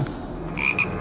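A frog gives a couple of short, rasping croaks close by, over a low background hum, with no talking.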